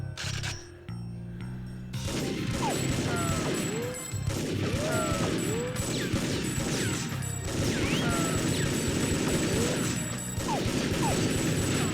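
Uzi submachine gun fire in TimeSplitters on PlayStation 2, with rapid, sustained bursts of sharp mechanical cracks that run almost unbroken after a brief quieter opening.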